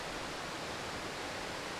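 Loud waterfall roaring up close, a dense, unbroken wash of rushing water that fills the whole space evenly with no pauses.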